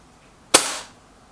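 A single sharp shot from a Benjamin Akela air rifle, a crisp close crack with a short fading tail, standing alone in quiet surroundings.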